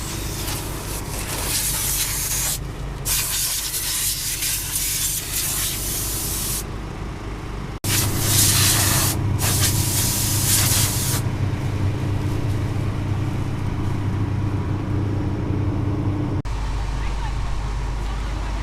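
Compressed air blasts dust off a combine harvester on an Iowa farm at harvest, a loud rushing hiss in long bursts with brief gaps, over steady machinery rumble, with a voice talking partway through.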